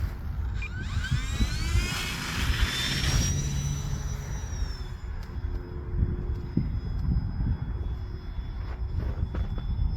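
An E-flite Turbo Timber Evolution 1.5 m RC plane flies on a snowy field, its electric motor whining and rising in pitch as it passes overhead, then fading to a steady distant hum under wind noise.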